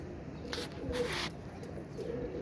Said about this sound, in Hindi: हरे रंगों वाला कबूतर हमारा बैठ रहा है।